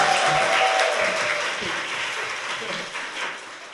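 A studio audience at a Korean talk show bursts into steady, dense applause that fills the whole stretch and tapers slightly toward the end, with no talking over it.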